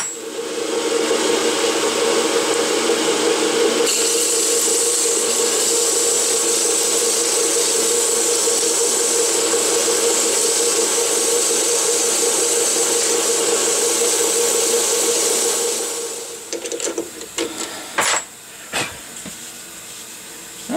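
A power sander with fine-grit paper works a 3D-printed bearing adapter, a loud steady whirring hiss for about fifteen seconds that then stops, followed by a few scattered handling clicks and knocks.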